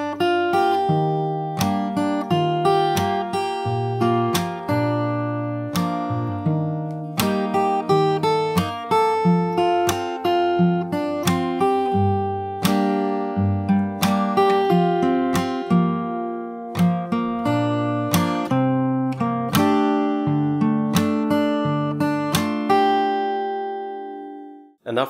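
Fingerstyle acoustic guitar plays a song's chorus, a steady stream of plucked chords and melody notes ringing clearly and alone, close and moderately loud, for about twenty-five seconds before fading out.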